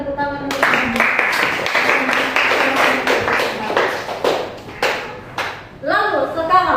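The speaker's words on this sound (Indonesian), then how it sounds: "Oke, berikan tepuk tangan." Audience applause following a presentation on the branches of faith, dense rapid clapping that swells and holds for several seconds before fading, with a brief voice at the end.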